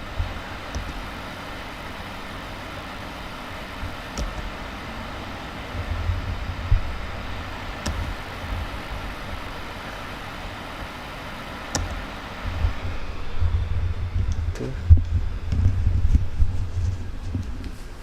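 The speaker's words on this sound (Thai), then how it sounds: "อันนี้ก็เป็นเสียงของเจ้าพัดลมของเจ้าตัวนี้นะครับผมนี่ ASUS TUF Gaming" An ASUS TUF Gaming FX505DT laptop's cooling fan whirs steadily at high speed, a loud broadband rush with low rumble that swells slightly toward the end, heard alone.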